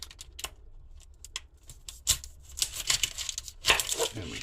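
A knife chops an onion on a cutting board, with scattered crisp taps and cuts that start sparse and faint, then grow busier and louder toward the end.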